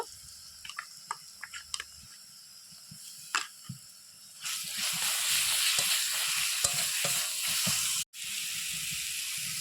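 Quiet stirring and scraping at first, then a loud steady sizzle of garlic paste frying in a pan for mutton curry that cuts out briefly near the end and resumes.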